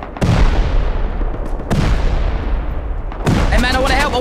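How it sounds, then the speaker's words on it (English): A C4 explosive detonating in the video game Rust, three loud booming blasts with long rumbling tails, a short voice-like sound over the last one. "I got their C4, I'm gonna use it against them."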